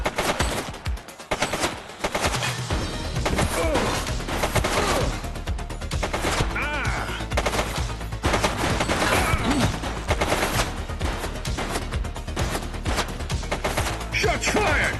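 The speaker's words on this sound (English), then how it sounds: "Shots fired!" Rapid bursts of automatic gunfire from a police shootout in The Precinct video game, loud and sustained through most of the stretch with a short lull near the start and brief shouted voices.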